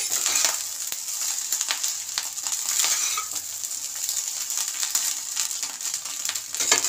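Rice frying in ghee and oil in a pan, stirred with a utensil: a steady close sizzle with scattered scraping and clinking strokes throughout, no talking.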